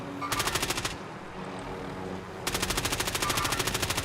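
Rapid automatic gunfire in Call of Duty Warzone rattles in two long, steady bursts separated by a short pause, loud and close with an evenly spaced rhythm.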